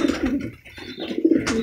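A pet dove or pigeon coos close by in soft, low, throaty pulses, a few rolling calls in quick succession, with no talking.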